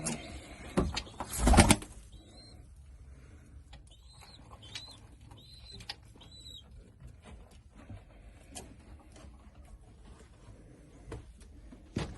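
Tumbler pigeons (oyun kuşu) in a breeding coop give several soft, repeated coos at a moderate distance, after a loud handling rustle, amid faint shuffling and scratching.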